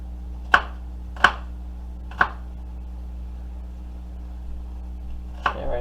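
A knife chops through a small onion on a cutting board, three sharp, evenly spaced thunks followed by a pause and a fourth cut, close and clear over a faint background hum.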